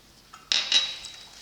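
A utensil mixes tuna and egg salad seasoned with salt and pepper in a bowl, giving a short burst of bright clinks and scrapes after a quiet start, then fading.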